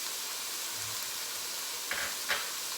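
Cooked turkey sausage goes into a soup pot that sizzles with a steady, broad hiss, with two soft thuds and stirring sounds near the end and no talking.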